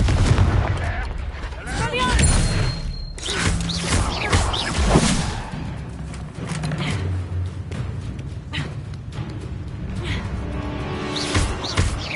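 Confringo fire spell cast in the Hogwarts Legacy video game, a sharp blasting burst followed by crackling impacts and rumble amid game music and effects.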